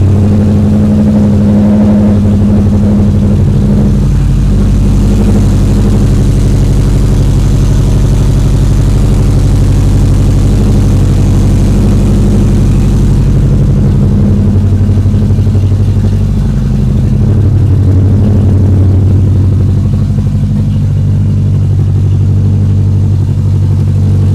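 A turbocharged Subaru EJ22T DOHC engine with an open downpipe idles loud and close with a deep, steady rumble and a slightly uneven, throbbing low drone that continues throughout.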